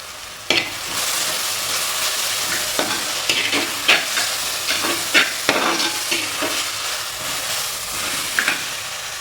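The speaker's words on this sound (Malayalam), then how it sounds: "ഈ സമയം നമുക്ക് കുറച്ച് കറിവേപ്പില ഇട്ട് കൊടുക്കാം" Curry leaves drop into hot oil with softened onions and three small green chillies for a Kerala chicken roast, giving a steady loud sizzle broken by sharp crackling pops and stirring scrapes.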